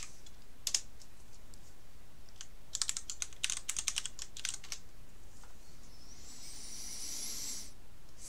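Keystrokes of a password being typed on a computer keyboard while logging into a computing cluster: quick close clicks in short irregular bursts, then a steady hiss near the end.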